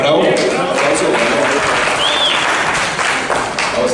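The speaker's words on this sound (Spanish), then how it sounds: "¡Ah, bravo! ¡Aplauso!" An audience applauds at a product presentation on high-productivity sublimation printing. The clapping is close and dense and runs steadily for a few seconds. A voice calls out briefly over it.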